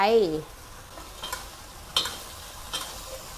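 Shrimp stir-fried with cashew nuts in a hot pan, a soft sizzle broken by a few sharp scraping strokes of the spatula, fairly quiet and close, with no talking.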